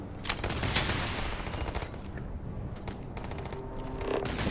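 Rapid bursts of gunfire in the space game Starfield, sharp cracking shots clustered early and again near the end over a busy, noisy game background, with no talking.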